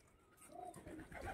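Pigeons, among them a wild pigeon, cooing softly while pecking at torn roti, a short faint low coo.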